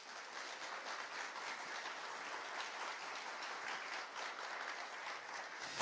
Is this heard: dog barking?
no